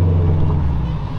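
A Subaru STi engine drones steadily from inside the cabin while riding, a constant low rumble with a sustained tonal hum holding level throughout.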